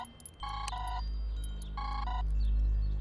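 A telephone rings with two electronic trill bursts, clear and close, over a low rumbling background hum.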